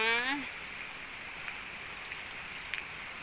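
Steady soft hiss of rain falling, faint and continuous, with a brief high tone at the start and a few light drips.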